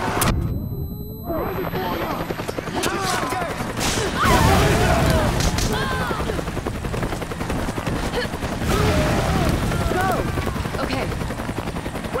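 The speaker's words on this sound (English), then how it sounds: "Gunfire." Rapid bursts of gunfire crackle amid loud explosions and a heavy rotor-like roar in the video game Resident Evil 5, dense and chaotic throughout.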